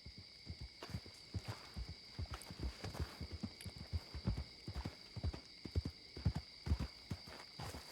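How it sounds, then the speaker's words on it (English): Steady clip-clopping of horse hooves in a video game at a brisk walking rhythm, close and clear over a constant electronic hum, with no one talking. "I found the horse. Who needs a ride? I found ponies. I hear ponies."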